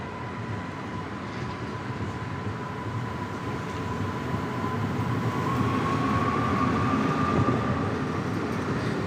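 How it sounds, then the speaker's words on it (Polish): Regio Pomerania regional train pulls out of Szczecin Główny station: a continuous rumbling rail roar that swells gradually as it gets under way, with a faint steady whine and no clear voices. "odjeżdża pociąg Regio Pomerania, racji Szczecin Główny, Słupsk."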